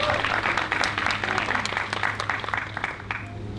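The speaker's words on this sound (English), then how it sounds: "Round of applause for Penny." Sustained audience applause for Penny at an art exhibit grand opening with a taiko demo, dense and steady clapping from a crowd close by, fading slightly toward the end.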